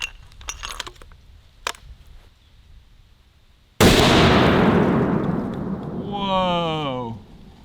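A .50 BMG rifle shot strikes a steel sledgehammer with a sudden sharp blast, then a long decaying roar and a ringing, warbling whine of the ricochet, after earlier small clicks and thuds.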